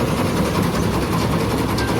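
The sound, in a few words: rice threshing machine running in a field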